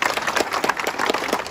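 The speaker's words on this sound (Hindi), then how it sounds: "जोरदार तालियां उनके लिए।" A crowd applauds a successful Bihar police sub-inspector candidate, a dense, even wash of clapping that holds steady at moderate volume for a short burst.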